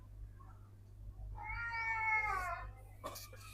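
A black cat that visits the house daily to be fed gives one drawn-out, wavering meow, close and moderately clear over a low steady hum, with a short scuffing noise just after.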